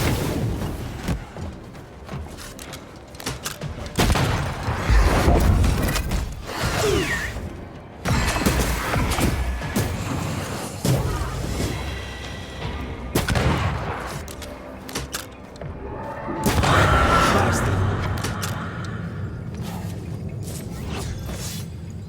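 Gunfire from an undead corpse enemy in the dark fantasy game Banishers: Ghosts of New Eden, loud bursts and booms recurring over about twenty seconds amid whooshes and mechanical clatter, with no one speaking.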